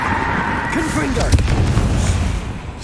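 A Confringo spell in Hogwarts Legacy goes off as a deep, rumbling explosive boom mixed into continuous game effects, loud and close, with a voice calling out over it.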